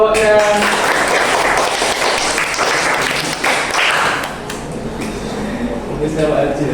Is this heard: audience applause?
yes